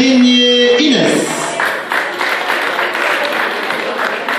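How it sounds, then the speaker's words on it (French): An audience at a Miss Montmagny beauty pageant with Kabyle dresses breaks into applause after a brief stretch of voice or music, the clapping spreading into a loud, dense burst that holds steady to the end. "Applaudissez Inès."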